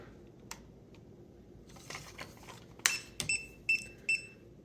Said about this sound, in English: So it'll beep when it's out of alignment, so things aren't level.